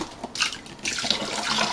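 Wine concentrate for an Amarone kit pours into a plastic fermentation pail in short splashing bursts, then settles into a steady close liquid stream.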